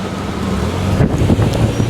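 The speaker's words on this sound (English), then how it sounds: "I've never seen wind like this." Strong wind gusting outdoors on a spring day on a college campus, a steady loud roar buffeting the microphone throughout, swelling in stronger gusts in the second half.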